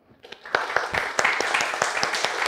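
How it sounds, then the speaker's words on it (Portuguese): Seminar audience breaks into a round of applause for a professor, sparse claps swelling quickly into steady, dense clapping from a moderately sized room. "Eu gostaria que vocês dessem uma salva de palmas ao professor João Batista"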